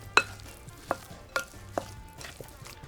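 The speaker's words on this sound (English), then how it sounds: "Now I'm gonna mix this up." A marinade of sriracha, fish sauce and molasses is mixed by hand, giving a few sharp, close clinks and taps at irregular intervals with quiet gaps between them.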